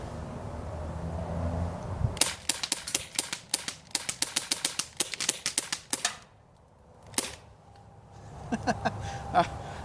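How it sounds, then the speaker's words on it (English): A Crosman P10 BB pistol, a cheap CO2 air pistol, fired in a fast run of sharp snapping shots, roughly twenty close pops in quick succession, then a pause and a few scattered clicks near the end. "Now let's see if I can pull that trigger even faster."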